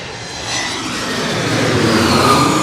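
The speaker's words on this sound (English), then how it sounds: "There it comes. Delta from Detroit coming on in." A Delta jet airliner from Detroit coming in to land at a New York airport in Queens, its broad engine roar swelling steadily louder and nearer as it approaches, with no talking.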